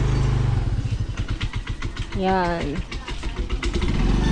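A motorcycle engine starts and settles into a steady, fairly close idle, with people talking over it.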